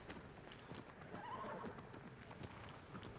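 A horse whinnies and its hooves clip-clop at a steady pace during riding in the video game Shadow of the Colossus. The neigh rises midway over constant galloping, faint and distant beneath rain-like ambience.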